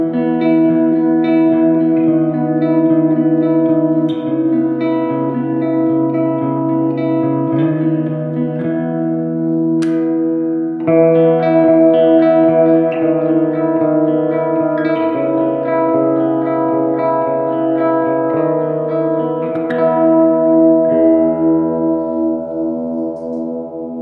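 A Tokai FB65 vintage electric guitar plays clean chords and ringing notes drenched in heavy reverb, sustained and washy throughout, loud and close with no voices.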